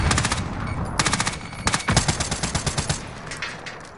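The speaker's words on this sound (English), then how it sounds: "You're shooting at the tree" Rapid video game gunfire in a battle royale match, with bursts of loud automatic shots in quick rhythmic succession, the first burst short, then a longer run of sharp cracks that tapers off.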